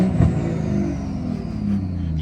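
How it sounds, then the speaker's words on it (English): A BMW M235i with a B58 engine and an Eventury intake is revved while stationary in neutral with burbles turned off, giving a close, throaty rise and fall of engine note over a steady idle rumble. "We get a couple of stationary revs. The car's in neutral with burbles completely turned off."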